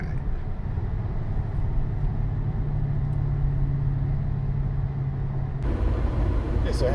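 A Dodge Charger fitted with a new cold air intake cruises along, its engine a low steady rumble under road noise, shifting in tone near the end.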